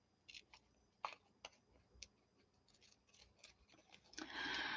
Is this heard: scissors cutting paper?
yes